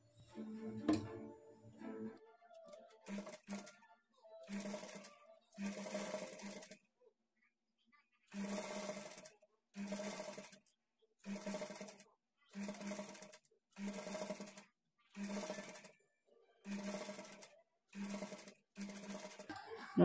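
A sewing machine stitches blouse piping in a series of evenly spaced short bursts, each a few seconds of rapid whirring, close by, with brief silent gaps while the fabric is repositioned.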